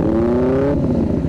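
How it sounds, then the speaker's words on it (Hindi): A brief, loud superbike engine rev, rising in pitch and then dropping back to a rough idle. "वो सुपर बाइक का साउंड सुनना चाहता है"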